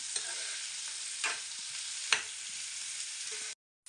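Bhurji fries in a hot pan while being stirred and browned, with a bright continuous sizzle and a few scraping stirs before it cuts off abruptly.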